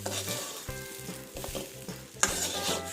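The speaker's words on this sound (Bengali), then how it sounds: "খুব সুন্দর করে চালটাকে ভাজা ভাজা করে নিয়েছি" Rice for a spicy chickpea pilaf frying in a pan as it is stirred, a constant near sizzle broken by rhythmic scraping strokes and one sharp metallic clink near the end.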